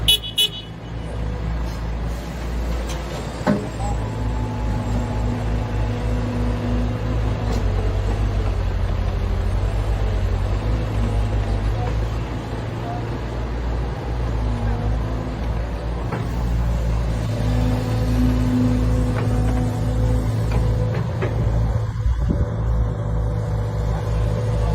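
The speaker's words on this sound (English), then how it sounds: "I didn't show the trucks breaking ground at Herdad de Mayo" Heavy trucks working a groundbreaking site at Herdade do Mayo, Portugal: a low, continuous diesel rumble with shifting engine tones and a brief horn-like toot near the start, steady throughout.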